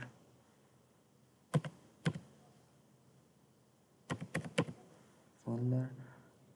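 Computer keyboard keys are tapped in a few short bursts of clicks separated by quiet pauses, and a voice speaks briefly at the end.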